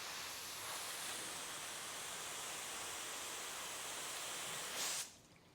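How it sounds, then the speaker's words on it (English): A garden hose on its mist setting sprays a steady, broad hiss of water for several seconds, then cuts off abruptly near the end. "now we're just gonna be using a garden hose"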